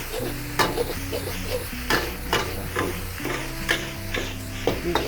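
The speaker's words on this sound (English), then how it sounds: "Now you have to add in the egg. Now you fry the egg." An egg fries in a pan for spicy fried rice with a low sizzle, and a utensil scrapes and clinks against the pan in irregular strokes close by, alone with no talk.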